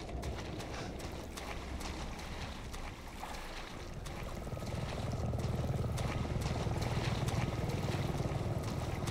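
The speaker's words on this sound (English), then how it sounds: "this is what I hear every night, though. The damned helicopter every night." A helicopter drones overhead in Resident Evil VII, a steady distant rotor rumble that grows louder and denser midway through, with no talking over it.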